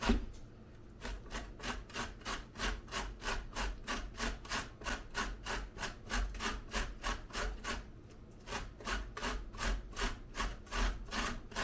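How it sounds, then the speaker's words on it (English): Beets grated by hand on a grater, steady rhythmic rasping strokes at a quick even pace, close and alone with no talking. "gonna go back to grating the beets."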